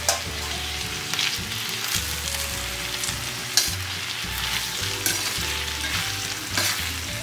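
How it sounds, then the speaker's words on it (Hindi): Vegetables frying and being stirred in a hot pan with green chili, soy and red chili sauces, a steady sizzle broken by repeated scraping stirs of the spatula throughout. "सारे वेजिटेबल के साथ अच्छी तरह से मिक्स कर लेती हूँ।"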